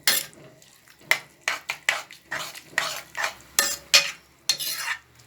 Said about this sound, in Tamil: நல்லா இப்படி கலக்கி விட்டுக்கோங்க.